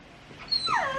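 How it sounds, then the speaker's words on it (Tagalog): A dog gives a short, high whimpering whine, rising then falling, at moderate distance. "may nag-iingay ditong aso"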